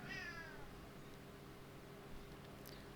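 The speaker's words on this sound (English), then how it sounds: "Cat's chipping in. Apparently he doesn't like this game." A male house cat indoors lets out one short meow right at the start, fairly close, then only a steady low room hum remains.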